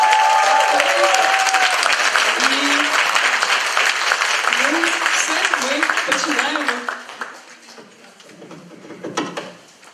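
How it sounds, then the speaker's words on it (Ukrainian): Loud, thick applause from a theatre audience at a youth ministry stage play, with shouts and voices mixed in, holding strong for several seconds before thinning into scattered claps and fading. "зараз зробити найшаленіші оплески для наших"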